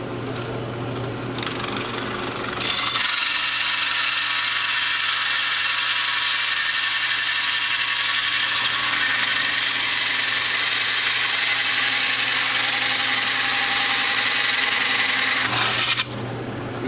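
A power tool cuts through a wood board while building a homemade honeybee feeder, a loud steady whine running unbroken for about thirteen seconds, alone and close.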